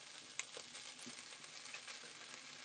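Onions fry in a pan for fajitas with a faint, even sizzle and crackle, plus a tiny tick or two, with no voices.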